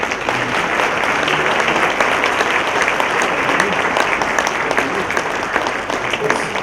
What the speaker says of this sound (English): I'd like to ask everybody to give a round of applause to Mark